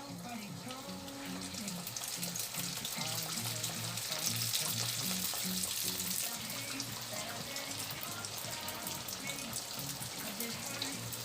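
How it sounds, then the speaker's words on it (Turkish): Potato börek pastries sizzle and crackle steadily in hot oil in a pan, a busy continuous frying hiss with small pops, fairly close by. "Böreklerimizi yağa bırakıyoruz."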